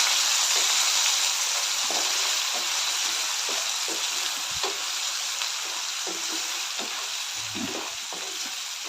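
Ingredients roast with a spoonful of salt in a pan for a jowar breakfast dish. A constant soft sizzling hiss continues, broken by occasional light scrapes and taps of a spoon stirring.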